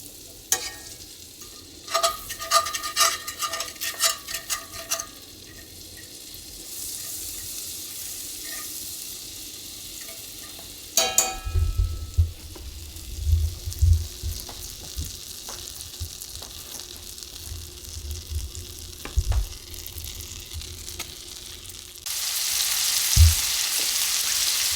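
Butter and venison tenderloin steaks hiss and sizzle in a hot pan, with clattering stirs and scraping early on, then a steady frying crackle with occasional louder pops and bumps.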